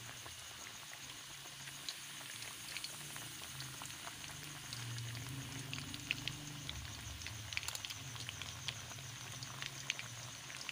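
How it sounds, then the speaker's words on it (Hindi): Shami kebabs, already half-fried, going back into hot oil for a second fry, giving a steady low sizzle and bubbling throughout with occasional small pops, fairly quiet and with no voices. "ये जो पहले ही फ्राई किए थे इनको दोबारा शामिल किया, दोबारा फ्राई कर रही हूँ उनको"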